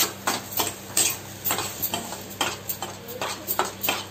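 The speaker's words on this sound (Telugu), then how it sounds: "ఆయిల్లో ఈ ఉల్లి ముద్ద వేసుకొని వేపుతున్నానండి" Onion paste frying in coconut oil, stirred with a utensil in rhythmic scraping strokes about every half second over a soft background sizzle.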